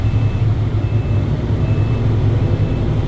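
A truck engine hums steadily in neutral during a CDL test, its deep, loud idle running throughout with faint intermittent high beeps over it.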